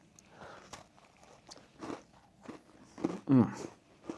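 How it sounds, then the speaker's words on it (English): A cookie being bitten and chewed close up, with several irregular crunchy bites that grow louder toward the end, in a quiet airport hotel room. "Please excuse me while I eat a cookie."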